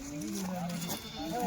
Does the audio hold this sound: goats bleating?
yes